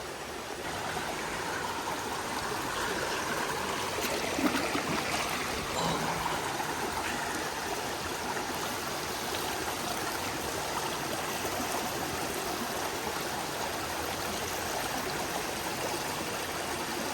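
A lively forest creek with rattan growing along its banks flows steadily, its constant close rush and trickle of water continuing alone throughout.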